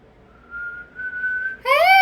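A single steady whistled note holds and rises slightly, then breaks into a brighter, louder warbling whistle at the end.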